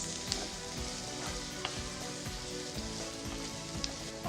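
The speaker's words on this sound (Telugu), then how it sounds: "చూసారా బాయిల్ అవుతుంది కదా ఆయిల్" Oil boils and sizzles steadily in a pan while making paneer butter masala, a dense continuous crackle with scattered sharper pops, close and fairly loud, no talking.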